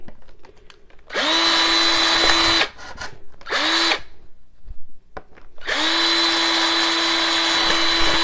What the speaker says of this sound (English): You've never seen me drill before, have you?